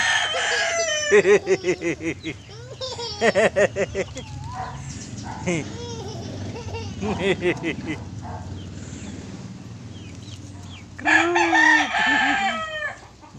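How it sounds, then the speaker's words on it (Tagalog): Chickens cluck in quick bursts nearby, then a rooster crows loudly near the end, with people talking in the background. "Ang daming manok si Bibi, ano?"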